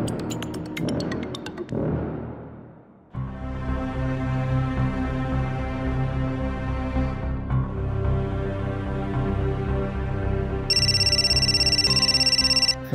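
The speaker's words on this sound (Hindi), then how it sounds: "फैजल का फोन।" A phone ringtone plays loudly for several seconds, a melodic electronic ring with a sustained tone, preceded by brief clattering sounds.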